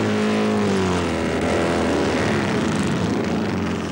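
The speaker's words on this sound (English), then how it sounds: "The noise as the engines fired was terrific" Racing motorcycle engines fire up together on a track before practice, making a loud, continuous roaring drone whose pitch shifts and rises as the engines rev, heard close and without voices.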